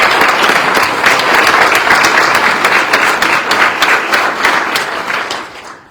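Loud, sustained applause from an awards-night audience honoring volunteers, dense clapping holding steady before tapering off at the end.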